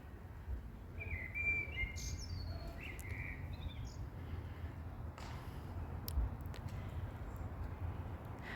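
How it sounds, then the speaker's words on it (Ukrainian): Birds chirp and warble intermittently at a distance over a steady outdoor rumble, with scattered short calls and occasional faint clicks. "Давайте послухаємо, як пташки співають."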